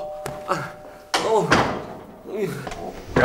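Several sharp knocks on a door, close and loud, spaced irregularly amid shouting and exclamations from people inside a home.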